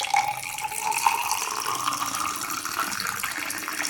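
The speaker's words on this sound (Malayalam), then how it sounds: "ജ്യൂസ് ഒഴിക്കാം." Grape juice poured over ice cubes into a glass, a steady liquid splash and trickle running throughout at close range with no voices.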